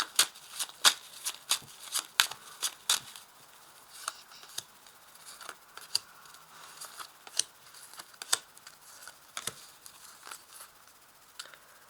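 Tarot cards being shuffled in a quiet room, a fairly close run of crisp riffling snaps and soft flicks in irregular bursts with short pauses between them.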